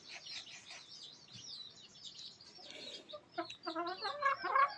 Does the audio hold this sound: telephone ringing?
no